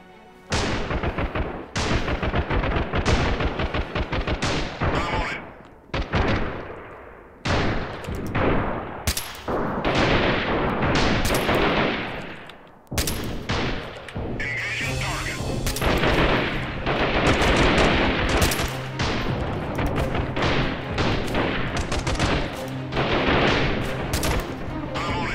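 Combat in the video game Freeman: Guerrilla Warfare, with loud, dense gunfire: repeated bursts of automatic rifle shots and heavy booms, broken by a few short gaps, and no talk over the shooting.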